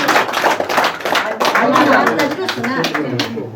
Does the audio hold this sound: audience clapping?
yes